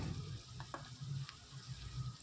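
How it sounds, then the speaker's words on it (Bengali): Chopped onions fry in a pan with a bay leaf for pav bhaji, a soft, steady sizzle with a few faint stirring taps. "এইভাবে পেঁয়াজগুলো দিয়ে আমি কিছু সময় ভেজে নেব।"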